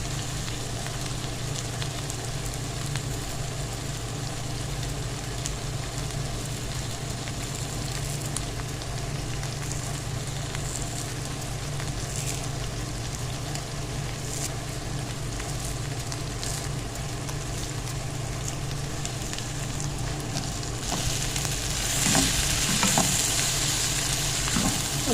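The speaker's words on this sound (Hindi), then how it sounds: "अच्छे से मिक्स करेंगे।" Minced meat stuffing for karela frying and being stirred in a pan with whole green chillies and chopped coriander, a steady close sizzle with scraping stir sounds throughout, rising slightly louder near the end.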